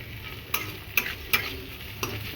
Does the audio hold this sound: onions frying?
yes